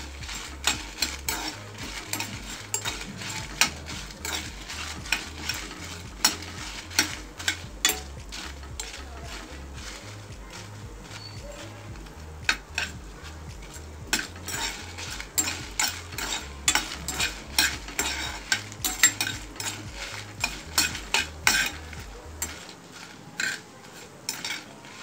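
Toor dal and cumin roast in oil in a pan, stirred with a steady run of close scraping and clinking strokes that stop abruptly just before the end, with no voices.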